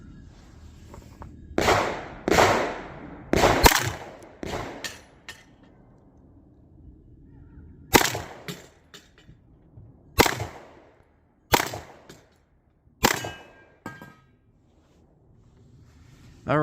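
Sharp, loud 9mm gunshots from a Taurus GX2 subcompact pistol firing Max Tech ammunition, about eight cracks in uneven bursts with quiet gaps between them, outdoors at a shooting range.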